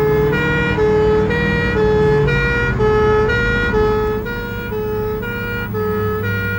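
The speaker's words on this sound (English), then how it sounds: "Two pump engines race to an exercise at a domestic house fire." Two fire engine pumps race to a training exercise at a domestic house fire, their loud two-tone siren alternating steadily and close by over a rumbling truck engine.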